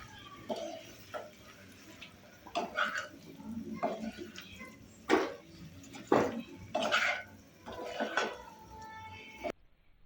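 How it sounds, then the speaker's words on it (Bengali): Fried potatoes being stirred with spices in a pan for Kashmiri aloo dum, a string of irregular scraping clatters and metallic knocks of a spoon against the pan, close, with quiet gaps between them and a faint voice in places. "এবং ভেজে রাখা আলুগুলোকে ভালো করে মশলার সাথে কষিয়ে নেব।"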